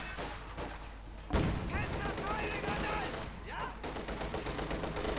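Anti-tank rifles fire at a T-34 tank in the Company of Heroes 2 battle game, a sharp shot followed by continuous mid-distance combat noise, scattered impacts and effects, with someone talking over it throughout.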